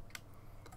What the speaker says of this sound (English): So I normally press B on the keyboard